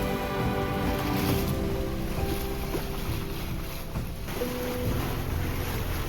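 A sailboat moves across the open ocean toward Santa Monica Pier, with a continuous wash of wind, water rushing along the hull and steady low rumble, all close and unbroken by talk.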